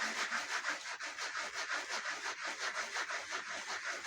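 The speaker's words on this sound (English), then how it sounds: "get our sanding block, use the heavier grit first, and we can sand off the edges on the sides" Metal rings being hand sanded with a heavy-grit sanding block, a quiet, rhythmic back-and-forth scratching rub repeated in quick even strokes, close up and alone with no talking.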